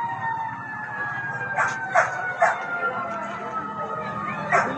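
Fire truck siren wailing at a house fire in a Quezon City neighborhood, held tones sweeping slowly downward at moderate distance, broken by several dog barks and crowd noise.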